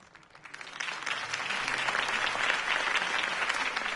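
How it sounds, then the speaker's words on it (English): Crowd applause after a campaign speech in the Batman Telltale video game, swelling from quiet to a steady, moderately distant roar of clapping that holds to the end. "could have heard that applause"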